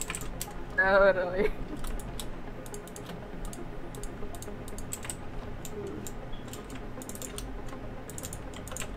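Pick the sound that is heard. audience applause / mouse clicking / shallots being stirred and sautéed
mouse clicking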